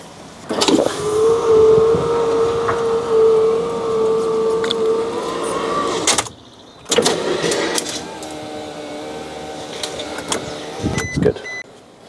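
An electric power window motor in a van door whirs steadily and laboriously for several seconds, stops, then runs again with a strained hum and a few clunks at the end, close and loud.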